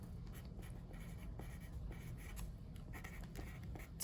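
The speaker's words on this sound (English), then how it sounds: "what Mr. Falker did I'm going to write" Pen or pencil writing on paper in a reading-response lesson, a close, steady scratch with short strokes and small pauses running for about four seconds, with no talk.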